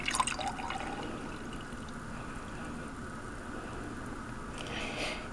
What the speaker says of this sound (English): you're going to be pouring hot syrup into it